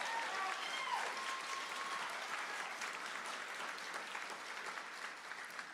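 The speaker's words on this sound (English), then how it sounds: "Give them applause." Graduation ceremony audience applauding the graduating students, a continuous, fairly faint roomful of clapping with slight cheering, gradually easing off.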